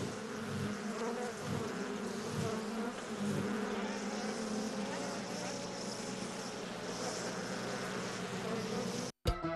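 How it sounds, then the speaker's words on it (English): A dense swarm of honeybees hums steadily and continuously near and around, a constant droning buzz with faint voices in the background. "Bees are economically the most important insects in the world."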